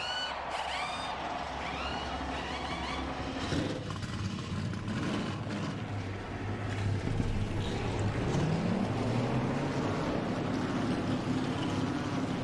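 Forty race car engines in a racing video game drone and rumble together at the start of a race at Texas World, a steady, loud roar with pitch rising and falling.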